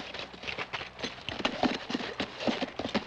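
Horses galloping off in a western film, rapid clip-clop hoofbeats in an uneven pounding rhythm, fairly close and loud, with no voices.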